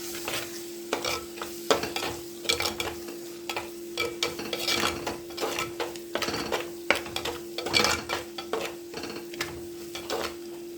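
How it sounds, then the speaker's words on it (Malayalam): Chili and turmeric powder stirred in a sizzling frying pan for prawn curry, with repeated close scraping strokes of a spoon over steady frying crackle and a constant background hum. "ഇതൊന്ന് നന്നായിട്ടൊന്ന് മിക്സ് ചെയ്ത് ഇളക്കാം കേട്ടോ"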